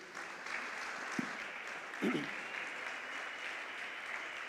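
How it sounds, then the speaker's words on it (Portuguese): A church congregation claps in sustained applause, a dense, even patter of many hands. It sits under a reverberant room tone with a couple of faint knocks. "Salva de palmas para Jesus, gente."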